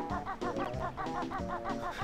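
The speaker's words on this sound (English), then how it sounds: "It's such a cute little sound from a bird." A cute bird sound from the video game Banjo-Kazooie: a steady run of regular, repeated honking squawks, loud and close, about eight evenly spaced calls over continuous game background.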